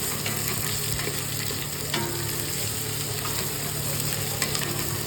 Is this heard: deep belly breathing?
no